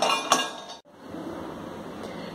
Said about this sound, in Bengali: বড়িগুলোকে তেল ছাড়া একটু নেড়ে নেব, কড়াইতে একটু লালচে করে নেব।